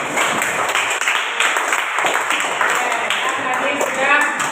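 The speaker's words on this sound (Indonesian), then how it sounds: "beri tepuk tangan untuk kita semua" A classroom group in an Indonesian teaching session applauds together, a dense burst of clapping that keeps going for a few seconds and is fairly loud, with voices mixed in.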